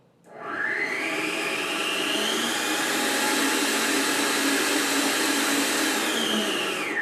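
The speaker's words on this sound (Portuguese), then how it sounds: "vamos deixar a batedeira trabalhar aqui um pouquinho. É rápido, o barulho vai incomodar um pouquinho." Electric stand mixer whipping egg whites to stiff peaks for bem casados sponge cakes, a loud steady whirring drone that starts abruptly and runs unbroken near the microphone, with no talking over it.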